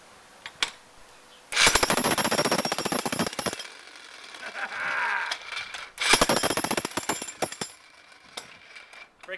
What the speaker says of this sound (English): Number one rule with the jackhammer: make sure it's not resting on your foot when you pull the trigger